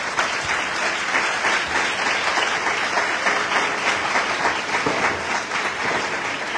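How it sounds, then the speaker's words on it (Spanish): Sustained audience applause fills a Falla farewell event, dense steady clapping from a crowd at close range without a break. "quiero que le deis un aplauso porque se lo merecen"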